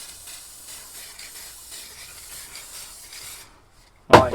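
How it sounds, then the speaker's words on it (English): Montana gloss varnish clear coat sprays from an aerosol can in a steady, soft hiss with side-to-side passes, pausing briefly before a sharper, louder burst at the end. "So I'm going to be using Montana Varnish, which is a gloss finish"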